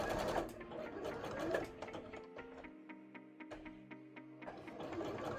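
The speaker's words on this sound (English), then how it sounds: "So now we're just sewing on this layer that we just pinned." Sewing machine stitching a pinned fabric layer on a pumpkin cosplay piece, a fast rhythmic mechanical whir with steady ticking, briefly slowing and stopping midway before running again.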